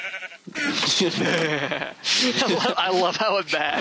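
A sheep in a modded Minecraft world bleats over and over in a wavering, nasal tone, loud and close, while people keep talking beneath and between the calls.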